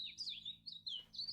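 A spoonbill call from the Wingspan Oceania video game: a quick series of thin, high chirps and tweets, faint and alone over a low background hum.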